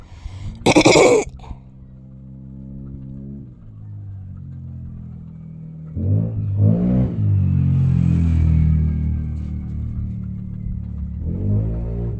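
Motorcycle engines idle and rev outside a house, a steady low rumble that swells into louder revving midway, with a brief clatter near the start.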